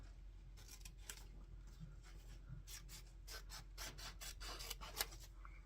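Scissors snip paper for a collage, close and quiet, with a run of short crisp cuts that speeds into a quicker cluster toward the end, no voices.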